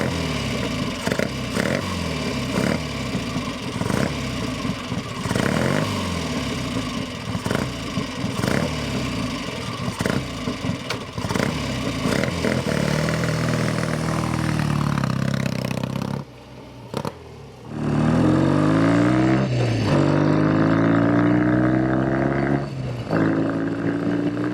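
A 1962 BSA Rocket Gold Star motorcycle engine running, a loud, steady throbbing drone with pulsing exhaust that briefly dips and then revs back up with rising pitch toward the end, no talking.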